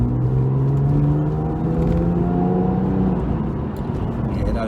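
A Porsche 911 on the road to its MOT inspection: a close, steady engine drone and exhaust rumble, heard from the cabin, with the pitch gently rising and falling as it drives.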